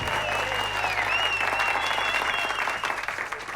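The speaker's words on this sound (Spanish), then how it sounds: "un aplauso para el maravilloso Halo Asimov" A studio audience applauds a stage performer with full, sustained clapping, while a thin whistling tone runs through the crowd noise.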